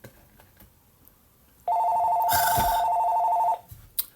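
A telephone rings loudly once: a steady electronic ring lasting about two seconds, with a brief noisy bump partway through, amid quiet room sounds.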